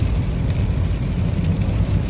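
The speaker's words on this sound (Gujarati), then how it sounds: "કન્ટિન્યુઅસ વરસાદ શરૂ છે." Steady, continuous rain falls outside near Heathrow Airport, a dense, even wash of noise with a deep low rumble underneath, close and loud throughout with no voices.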